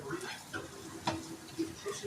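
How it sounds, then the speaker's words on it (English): Scrambled eggs and bacon stirred in a frying pan, soft scraping strokes and light sizzle in short irregular bursts, fairly quiet and close. "Then we're going to take the scrambled eggs and bacon, and we're going to go ahead and stir those together in the pan."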